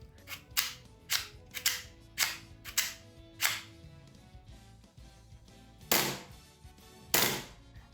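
A custom 3D-printed SR-2M airsoft replica firing, a series of sharp snapping shots, six in quick irregular succession, then a pause and two louder, fuller shots.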